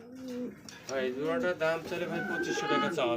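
A pair of white Beauty Homer pigeons coo softly and repeatedly close by, their low throaty calls overlapping a person speaking.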